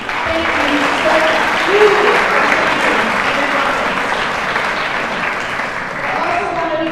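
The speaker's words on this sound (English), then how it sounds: "I want you to all give yourselves a huge round of applause" Sustained applause from an audience at a university gala fills the room steadily, with scattered cheers and voices rising over the dense clapping throughout.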